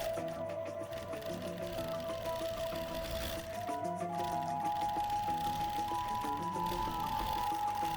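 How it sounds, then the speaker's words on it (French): Overlocker serger running steadily while finishing the edge of a patch pocket in a sewing workshop, a continuous close mechanical whir with a sustained motor hum and slight pitch shifts, no talking. "On passe à la surfileuse"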